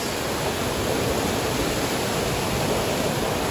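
Water rushes and pours steadily into a mill's turbine pit, a dense close hiss with no pauses, like a strong flow spilling into an enclosed space.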